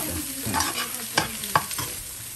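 Prawns go into a hot frying pan for Chinese fried rice with chicken, giving a steady sizzle broken by a few sharp scraping clatters of a spoon against the pan, close and fairly loud, with no voices.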